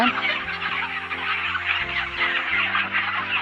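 A crowded shed of broiler chickens on a farm sends up a dense, continuous chorus of clucking and chirping from many birds, steady and fairly loud, with a low machine hum running underneath.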